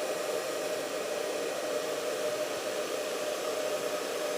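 A blow dryer hums as a steady, close, unbroken whoosh of hot air while a styling brush works through and polishes strands of hair. No voices are heard.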